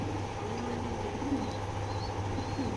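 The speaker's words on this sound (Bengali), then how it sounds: "এগুলা অরিজিনাল কিটেল ব্লাডের কবুতর।" Original Kitel-blood pigeons coo softly in a loft, a few low, rounded calls rising faintly over a steady background hum, with no talk.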